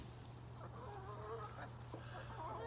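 Backyard chickens clucking softly while pecking at thrown mealworms, scattered murmuring calls over a steady low hum, faint and close.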